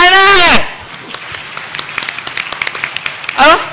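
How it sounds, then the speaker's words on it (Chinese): Audience clapping at a blog awards ceremony, a short burst of scattered applause between bursts of amplified speech. "赞成的请鼓掌"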